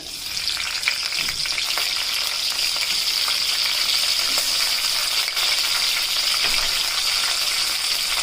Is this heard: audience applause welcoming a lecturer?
no